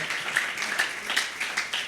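Applause for a speaker on a church youth podcast, a small group clapping steadily with distinct irregular claps, close and moderately loud, lasting the whole short stretch without talk.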